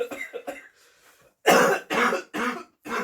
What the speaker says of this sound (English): Paul's cough's still not all the way better yet